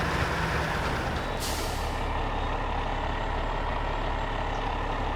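A Tuz 420 Tatarin truck in SnowRunner, a heavy engine droning loudly and continuously with a sharp hiss of the air brake releasing near the start, no talking.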